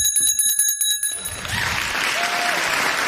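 Bell rung to close a round at a playoff debate on trying teenagers as adults, a rapid run of bright metallic strikes for about a second, then a ringing decay fading into room noise and applause-like hiss.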